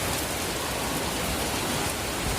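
Steady rain falls outdoors in a rural setting, an even, dense hiss of drops with no breaks, moderately loud and continuous, with no voices.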